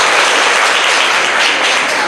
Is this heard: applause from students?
yes